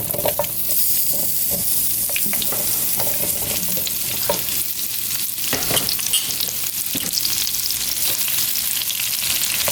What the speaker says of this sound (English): So I have some bacon grease over here I already heated up. I'm gonna go ahead and put my onions and mushrooms in here.